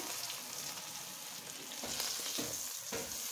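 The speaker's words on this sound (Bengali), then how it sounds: "এই যে আমার সবকটা মাছ ভাজা হয়ে গেছে।" Fish frying in hot oil, a dense, steady sizzle close by with occasional crackles and pops, continuous throughout without talk.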